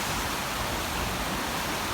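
Nunobiki waterfall after heavy rain, swollen with high water, gives off a steady, dense roar of rushing water that fills the whole stretch without a break.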